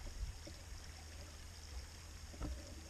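Water trickles steadily over a small waterfall on a creek along a mountain-bike route near Torrelodones, Madrid: faint, continuous splashing with a few soft knocks nearby.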